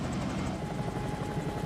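A Bell 222 helicopter in a flight simulator game drones with a steady, dense rotor and turbine roar, loud and continuous with a faint rhythmic rotor pulse throughout.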